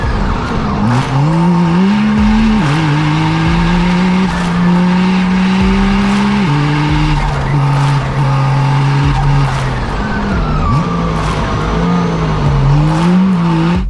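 A road race car screams along a track, engine wailing loud and close through repeated gear changes and pitch swings, with brief tire squeal amid the constant roar.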